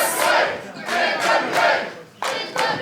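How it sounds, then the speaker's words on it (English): A wrestling crowd at an NWA Powerrr event chants in rhythmic, loud swells, each burst rising and fading in quick regular succession, with a short dip before the chant resumes. "The crowd loving this."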